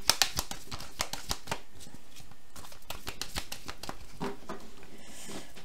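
A deck of tarot cards is shuffled and cut by hand, producing soft, rapid riffling and light tapping up close at a quiet level, with no talking.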